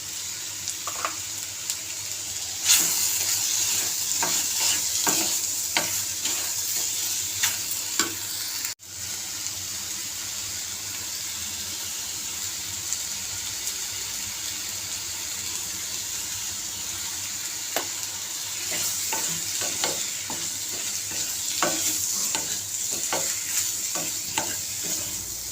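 Bottle gourd curry seasoned with salt and chilli gets stirred in a pan, with soft sizzling under scattered scrapes and clinks of the spoon, plus a brief knock partway through; no one speaks.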